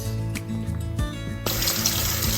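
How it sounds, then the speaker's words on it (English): Cold water running from a tap into a kitchen sink, a steady broadband rush that starts partway through and continues to the end, close and fairly loud. "So I'm filling my sink with cold water"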